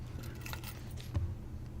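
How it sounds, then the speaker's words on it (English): Car keys jangle in the video game Blue Prince, a short metallic clinking burst heard alone over a low steady background hum, with one slightly louder chink near the end. "car keys"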